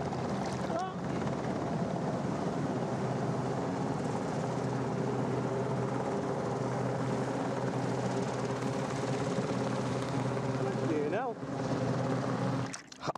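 A helicopter passes close overhead above the sea off Anglesey, its rotor chop and engine drone loud and continuous throughout, with wind buffeting the microphone and a voice speaking briefly near the end.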